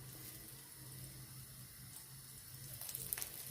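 Dabeli buns crisping in oil in a pan give a steady, faint frying sizzle, with a few small crackles late in the sound.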